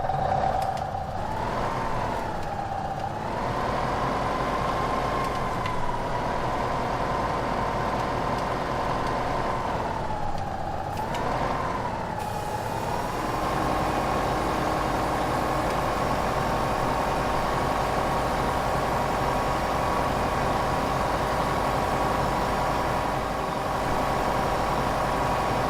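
A tractor engine running steadily in Farming Simulator 2015, a continuous low mechanical drone with a couple of brief pitch swells as it revs, no talking over it.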